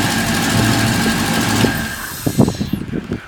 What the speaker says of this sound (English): Runs like a top. And no issues with that motor.